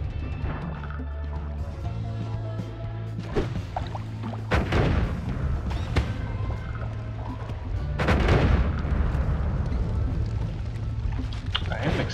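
Loud booming blasts and crashing bursts in the game Noita over a continuous backdrop of game music and tones, with two heavier rumbling impacts.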